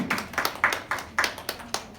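A high-school congregation at a Sunday church service claps together in a steady rhythm, about seven crisp, evenly spaced group claps ringing in a roomy hall.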